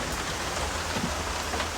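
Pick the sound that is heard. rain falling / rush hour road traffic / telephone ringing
rain falling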